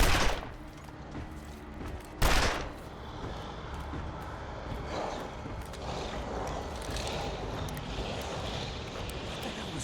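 Gunfire aimed at a wolf in a foggy survival game: two loud sharp shots near the start, then a low rumbling, scuffling background with faint scattered reports.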